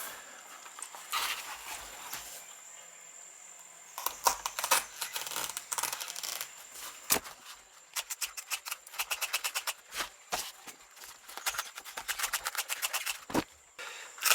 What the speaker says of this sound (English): I'm going to cut just on the inside of these knobs